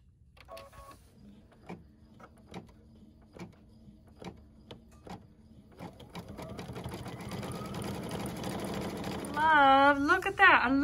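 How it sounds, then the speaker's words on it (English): An embroidery machine stitches a satin stitch border in thread color 8 on a soap wrap, starting as sparse spaced needle clicks and building into a dense, steady mechanical hum, with a brief voice near the end. "And embroider the final satin stitch border, the color number 8."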